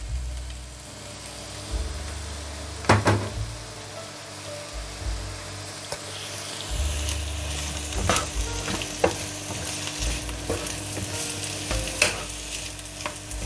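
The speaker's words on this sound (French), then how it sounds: "Fais colorer les oignons avec un filet d'huile d'olive pendant 5" Onions browning in a drizzle of olive oil in a pan, a steady close sizzle throughout, broken by occasional clinks and scrapes of stirring. Nobody speaks.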